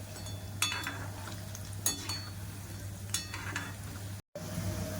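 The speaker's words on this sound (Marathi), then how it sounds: "आता मी गॅस थोडंसं मीडियम करते आणि मग भजे छान तळून घेते" Onion pakoda (kanda bhaji) frying in hot oil on a medium gas flame, a steady close sizzle with a few soft clinks of a utensil, with no voices.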